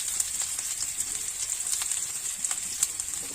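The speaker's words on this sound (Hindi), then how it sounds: "एबे प्याज को ऐड कर दबा," Onion sizzles after being added to hot oil for a potato masala sandwich, a bright, steady hiss with small crackles and pops scattered throughout, close and moderately loud.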